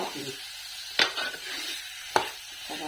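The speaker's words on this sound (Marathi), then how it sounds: "मटण पण टाकून घेते आता मी मटण टाकले आता मिक्स करून" Goat mutton being mixed in a cooking pot for a village-style yellow mutton broth, with two sharp spoon scrapes and a soft sizzle beneath, close and moderately loud, with no talking.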